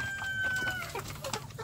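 Free-range Indonesian village chickens (ayam kampung) clucking in a brief burst of close, moderately quiet calls over a low background hum.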